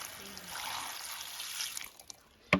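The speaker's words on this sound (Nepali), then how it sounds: "पानी हालेर धुनुपर्छ।" Water pours steadily over freshly harvested rai saag (mustard greens) being washed, a close, continuous splashing hiss that fades after a couple of seconds and ends with a sharp knock.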